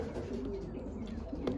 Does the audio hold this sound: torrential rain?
no